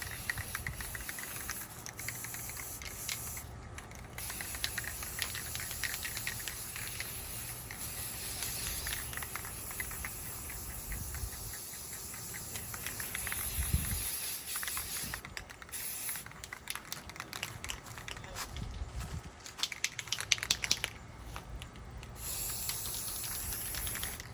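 Steady close hiss of a spray paint can coating a rifle, running in long continuous bursts with brief pauses between passes, no voices.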